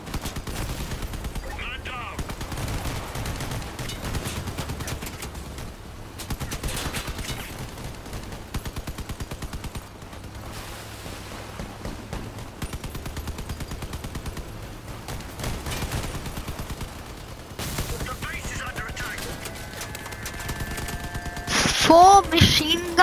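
Rapid machine-gun fire rattles almost continuously in the vehicle-combat video game Crossout, dense bursts of shots with brief lulls, mixed with game noise and occasional voices.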